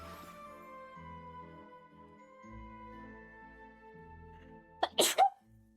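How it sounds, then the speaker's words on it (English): A person gives one sharp, abrupt sneeze near the end, heard over soft, sustained background music while playing a video game. "not my sneezing again."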